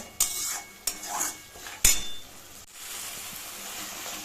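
Mustard sauce being stirred in a pan for Bengali sorshe boyal fish: a few sharp spoon clinks against the pan, then a soft steady stirring and faint sizzle, close and fairly quiet.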